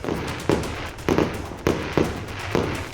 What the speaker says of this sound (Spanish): Despiden al fallecido con fuegos artificiales y otros elementos pirotécnicos.